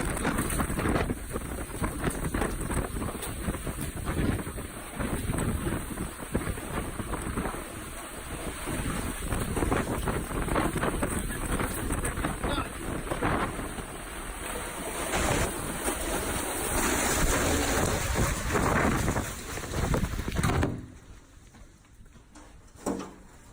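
A storm with strong winds and rain, heard from a front door as a continuous, heavy roar of wind and rushing noise that suddenly drops away near the end.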